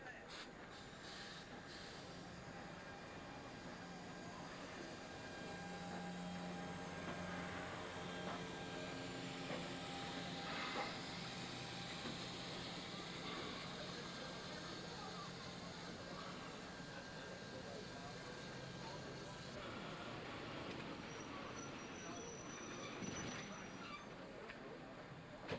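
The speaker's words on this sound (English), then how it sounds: "the double-headed train arrives at Nil in Victoria for overnight stabling" South Australian Railways steam locomotive No. 621 "Duke of Edinburgh", double-heading a train, arrives at Nil in Victoria, a steady broad rumble of rolling stock with faint whistle-like tones and squeal, continuous and moderately distant throughout.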